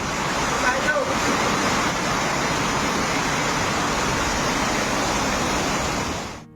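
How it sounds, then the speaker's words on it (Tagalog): Fast-rushing muddy floodwater from heavy monsoon rain pouring through a residential area, a loud, steady broadband roar that holds without a break and then cuts off abruptly at the end. "kita ang mabilis na pagragasa ng tubig na kulay putik na pumasok na sa mga bahay"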